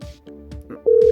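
Telephone tones from speed-dialing a number on a phone: a few short beeps followed by a steady, loud sustained tone near the end, close and clear with no talking.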